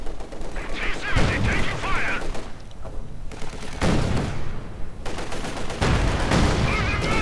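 Bursts of gunfire and heavy booms from a Company of Heroes 2 battle, with a Panzer IV firing on a T-70 tank amid machine-gun fire, loud and close, mixed with game sounds.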